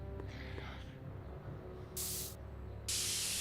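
Spray paint hisses in the Back to the Future video game in two bright, steady bursts, the second longer and louder, over a constant low background hum with no talking.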